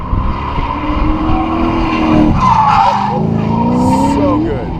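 A BMW race car skids with long tire squeal on a track at Summit Point during a February race event, heard from a distance over engine noise while spectators talk excitedly.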